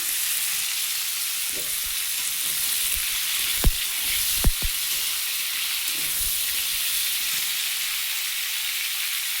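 Tomato frying in a pan with paneer and okra and tempering spices, giving a steady close sizzle throughout with a couple of sharp clicks of a utensil midway.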